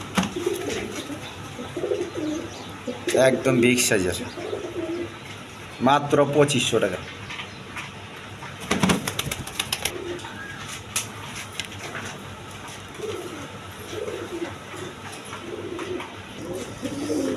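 Male pigeons of a gola breed coo at a pigeon sale, a few deep, throaty bursts rising through nearly continuous close talk from a man.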